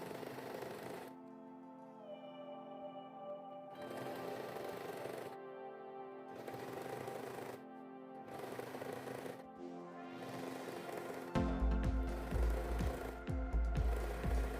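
A sewing machine stitches along the first side of a lace top, running in several short bursts separated by brief pauses, close and steady, before a louder, rougher stretch near the end.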